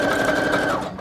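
A sewing machine runs in a steady, fast, loud whir as it stitches a paper collage tag, then slows and stops after about a second.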